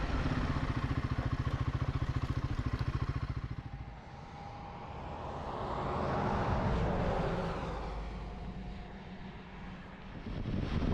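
A Royal Enfield Himalayan 450 motorcycle rides along a Highland road in Scotland, its engine thrumming steadily at first, then washed over by rising and falling wind rush at moderate volume.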